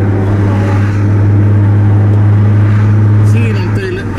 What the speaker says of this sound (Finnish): Siinä on teille ääniä, mitkä kuuluu, kun on pakoputki rikki.